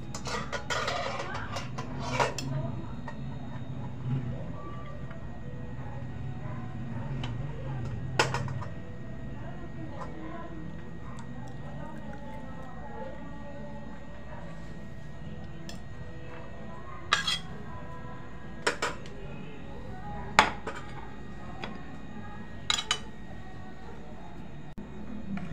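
Several sharp clinks of dishes and utensils while plating tuna carbonara, against a steady low background hum, with a few spaced, brighter clinks later on.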